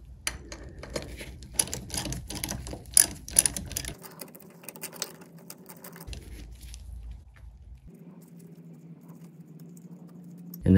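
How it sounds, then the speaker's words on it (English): Craftsman 3/8-inch ratchet with a 7/16 socket removing two bolts from the bottom of a Mercruiser Alpha One outdrive, giving rapid close clicking bursts, then quieter stretches and a low hum, with no talk. "Next, I grab my Craftsman 3/8 ratchet and I've got a 7/16 socket."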